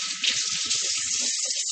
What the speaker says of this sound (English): I'm going to get a few more of the tomatoes rinsed.